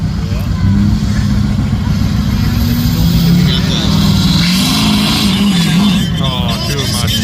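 A Duramax diesel pickup engine revs hard at a tractor pull, a loud, continuous roar whose pitch wavers and climbs across the whole stretch against background crowd noise.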